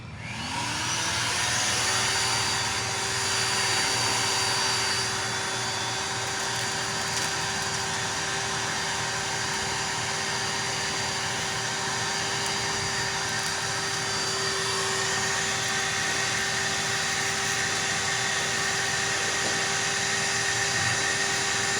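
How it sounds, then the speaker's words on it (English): Shop Vac ash vacuum spinning up and running continuously with a steady loud whine and whoosh, close and alone throughout. "every once in a while that Shop Vac stops in a spot where it draws a lot of current to get it spinning again"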